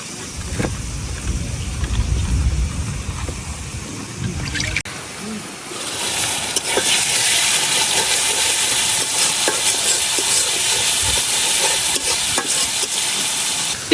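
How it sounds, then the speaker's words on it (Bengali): Onion and garlic frying in a pan for a wild taro leaf dish with dried fish, stirred repeatedly; a steady loud sizzle rises after a few seconds of quieter scraping and stirring, with occasional clatter of the spoon, no talk. "পেঁয়াজ রসুন গুলা হালকা ভাজা হয়ে গেছে।"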